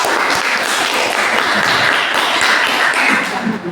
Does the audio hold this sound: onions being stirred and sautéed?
no